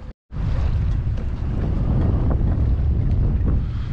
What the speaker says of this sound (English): You can see how windy it got.